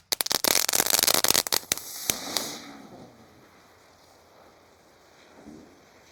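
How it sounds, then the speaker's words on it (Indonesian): A ground spinner firecracker (gangsing, also called roda gila) is lit, giving a rapid burst of loud crackling pops for about two seconds that then fades into a quiet hiss and faint outdoor noise. "Selanjutnya yang kita nyalakan di sini ada mercon gangsingan atau roda gila."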